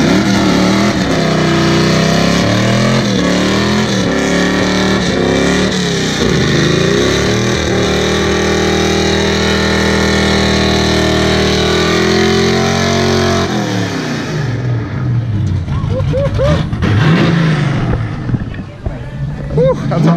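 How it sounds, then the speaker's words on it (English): A Camaro with a built 350 V8 holds a loud, sustained high-rev roar during a line-lock burnout, then the revs drop and rise in rougher bursts, with voices talking over it. "He's gonna do a fucking big burnout right now."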